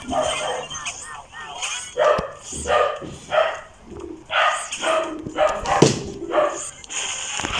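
A dog barks repeatedly in short yaps while a person talks over it throughout.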